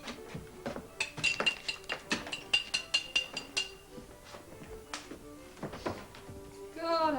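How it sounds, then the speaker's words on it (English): Wine glasses clink and tap in a string of light, bright knocks over a quiet room, with faint voices underneath. "Well, let's have a glass then. A wine glass."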